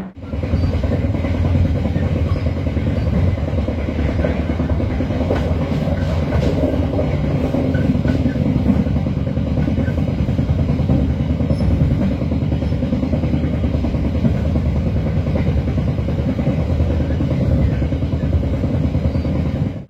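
An Indonesian Matarmaja economy train on its run from Pasar Senen to Malang rumbles on steadily and loudly for the whole stretch, with a dense, constant rolling roar and no voices.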